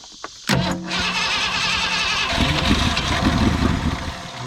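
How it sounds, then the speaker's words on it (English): An old 1950s car engine is cranked on its first start, a loud, close, continuous rhythmic churning of the starter that grows rougher and fuller as it keeps turning over. "Let's see if she'll crank."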